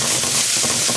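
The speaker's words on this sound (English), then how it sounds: "just put a bit of the Lightlife in the pan and the Beyond and just kind of try to saute it up" Lightlife and Beyond Meat plant-based vegan ground sautéing together in a pan, giving a steady close sizzle with scraping, stirring clicks throughout, no voices.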